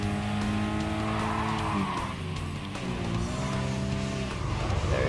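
Mazda Roadster race cars in Gran Turismo Sport cornering hard, with engines droning and tires squealing steadily through a turn. The engine tones shift up and down as the cars brake and accelerate, loud and close the whole time.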